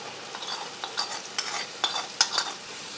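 A paste is stirred into onion masala frying in a pan for paneer butter masala, bringing a quiet sizzle and a run of light, quick spatula scrapes and taps, close by with no voices.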